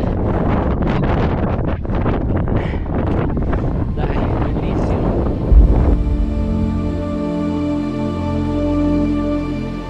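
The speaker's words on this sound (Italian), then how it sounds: "è il vento che ti butta giù." Strong wind on a mountain ridge near the summit of Monte Tremoggia in the Alps, roaring continuously and buffeting the microphone close up, while someone talks over it in the first half.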